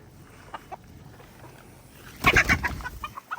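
Chickens clucking while eating, heard as a soft farmyard background that breaks into a close cluster of loud, rapid clucks and squawks lasting about a second.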